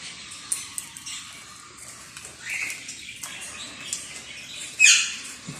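Birds squawking at a pet market in Dubai, with scattered sharp calls over a low busy background and one louder squawk near the end.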